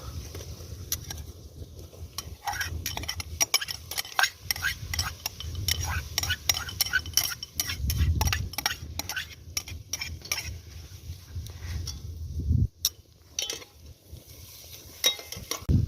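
Carrots are tipped into a cauldron of fried onion over a campfire, giving a low sizzle and frying hiss under repeated metallic scrapes and clinks of a utensil stirring against the pot; a sharp clatter lands near the end.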